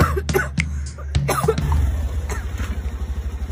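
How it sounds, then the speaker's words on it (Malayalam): A woman coughs several times in short bursts, close and loud, while a vehicle engine idles steadily underneath. "പെങ്ങൾക്ക് നല്ല ചുമയുണ്ടല്ലേ"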